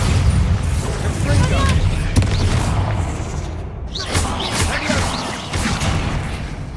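Bombarda blasting spell going off in the Hogwarts Legacy catacombs, a heavy booming burst with rumbling debris. Speech sits under and around the blast.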